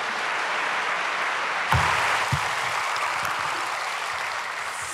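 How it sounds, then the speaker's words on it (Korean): A room full of people at a prayer meeting for peaceful reunification claps steadily to welcome a visiting pastor, the dense applause holding evenly throughout with a couple of low thumps partway through. "박수로 환영해 주시겠습니다."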